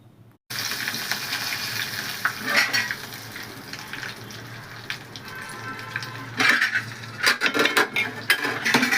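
Mashed dal being tempered in a hot pan, sizzling steadily and close up, with bursts of stirring and spoon scrapes growing busier toward the end; no one talks.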